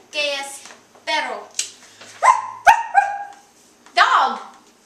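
A series of short, voiced woof-like barks, about six loud, close bursts with brief pauses, heard during a playful Spanish vocabulary lesson; the barks may be a person imitating a dog.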